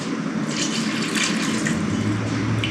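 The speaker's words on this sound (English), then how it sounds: "we're going to add a little bit of our water" Water pours steadily into a mixing bowl of pumpkin bread batter for a couple of seconds, a close, continuous splashing rush with no talking.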